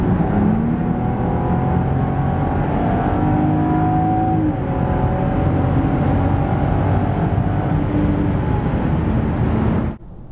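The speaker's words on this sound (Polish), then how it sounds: "to naprawdę dobrze się rozpędza i można poczuć w nim konkretną moc" Under hard acceleration, the 3.0-litre, 360 hp engine of a 2023 Land Rover Discovery drones loud and steady with a rising tone, then cuts off abruptly at the end.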